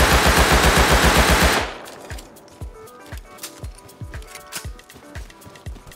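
Rapid automatic gunfire in the online survival game Rust bursts loudly and densely for about a second and a half, then gives way to scattered, sharper single shots and quick volleys at varying distances.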